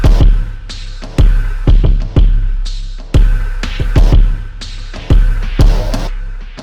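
Triplet-style drum pattern with thumpy kicks, distorted snares and open hi-hats hits loud and close in a lurching, repeating groove, with sharp transients and short decays between hits.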